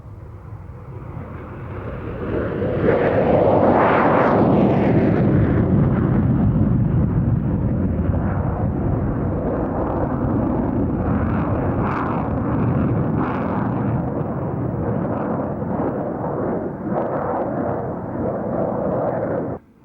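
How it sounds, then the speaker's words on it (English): Lockheed Martin F-16C Fighting Falcon jet from the 78th Squadron, 20th Fighter Wing, flying a solo display at the Nellis Golden Air Tattoo 1997, a loud roaring pass rising to a heavy, sustained rumble that cuts off abruptly. "First solo jet performer each day at the Golden Air Tattoo was the Lockheed Martin F-16C Fighting Falcon"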